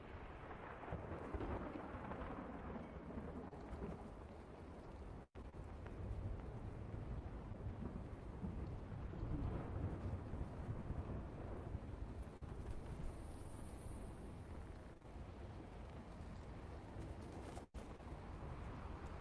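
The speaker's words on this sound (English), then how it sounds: "the thunder that's rolling" Continuous rolling thunder rumbles heavily and evenly under steady rain-like hiss throughout, loud and low without a clear single crack, briefly dropping out twice.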